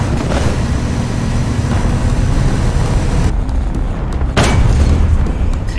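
Heavy rifle shots and impact booms from War Thunder's sniper-versus-fast-tank battle ring out over a constant rumble of engines and battlefield noise, with a couple of sharp cracks standing out.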